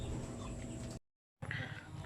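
Chickens cluck and chatter at feeding time on a poultry farm, a dense, steady flock noise that cuts out briefly to silence and then resumes.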